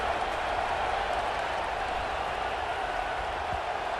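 Steady roar of a stadium crowd in the College Football 26 video game, a dense, unbroken wash of distant voices holding at an even level for a few seconds with no distinct cheers.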